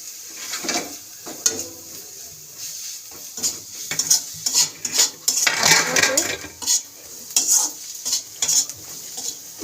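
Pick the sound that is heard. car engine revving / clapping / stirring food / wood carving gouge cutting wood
stirring food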